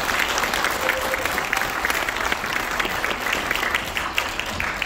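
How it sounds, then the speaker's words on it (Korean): Sustained audience applause fills the room as a speaker from IBP is welcomed onto a lecture stage, a steady dense clatter of many hands clapping at close range with scattered crowd noise and no speech. "큰 박수 부탁드리겠습니다"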